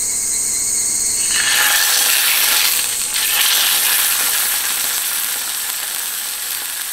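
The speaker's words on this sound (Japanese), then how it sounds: "お肉を 焼きます" Meat sizzles steadily on a grill at a summer campsite, a loud close hiss that swells after the first second and holds for the rest of the clip with no talking.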